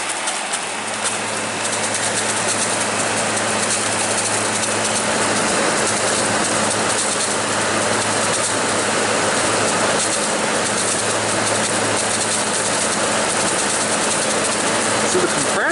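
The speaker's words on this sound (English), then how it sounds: "So the compressor sounds pretty harsh." An Arctic King WWK05CM71N window air conditioner's compressor runs with a loud, harsh, steady hum and buzz, recorded close up and unbroken for the whole stretch.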